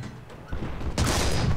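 Gunfire from a War Thunder tank battle: two heavy, booming reports about half a second apart, the second louder and followed by a sustained rumbling roar.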